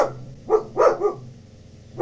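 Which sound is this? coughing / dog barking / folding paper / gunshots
dog barking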